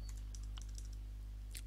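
Typing on a computer keyboard while setting up Kali Linux in VirtualBox: a few quiet, scattered key clicks over a steady low electrical hum, no talking.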